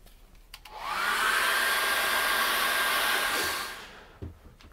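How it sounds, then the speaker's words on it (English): A hairdryer blows over a freshly painted acrylic Christmas card, switching on with a rising whoosh, holding a steady close whir for about three seconds, then winding down to quiet. "I want to dry that off with a hairdryer"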